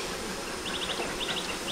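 Honey bees buzzing around an open hive being calmed with smoke, a soft continuous drone with faint repeated high whines over low background noise.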